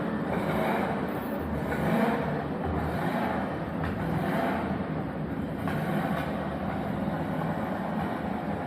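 A Mercedes car engine revs at the Mercedes museum in Stuttgart, a loud, steady roar with gentle surges throughout and no talking.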